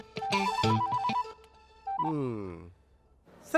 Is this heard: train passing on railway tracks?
no